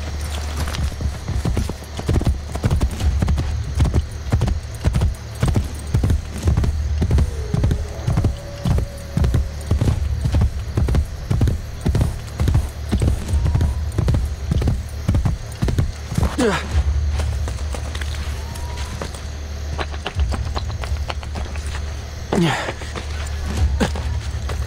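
Hooves clip-clop in a steady, rapid rhythm as a horse is ridden in Assassin's Creed Brotherhood, loud and continuous for most of the stretch, with a brief whinny and a few other in-game sounds.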